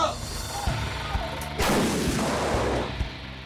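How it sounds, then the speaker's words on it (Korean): An artillery shell is fired during a South Korean military live-fire drill, a single sudden heavy boom followed by a long rolling rumble that fades away, with no one speaking. "고해에 맞춰 힘차게 발사되는 포탄"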